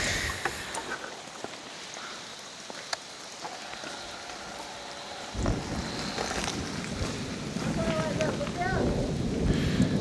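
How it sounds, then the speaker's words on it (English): Heavy rain in an outback thunderstorm roars steadily, swelling louder partway through, with a dull low rumble of thunder underneath and brief bird-like chirps near the end. "In the thunderstorm."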